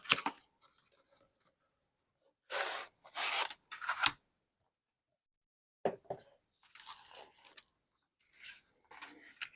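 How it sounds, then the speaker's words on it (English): Plastic packaging of a deluxe-class Studio Series '86 Bonecrusher toy figure being handled and torn open, with several loud bursts of crinkling, ripping and scraping separated by quiet gaps, close up and with no talking. "let's go ahead and get the figure open"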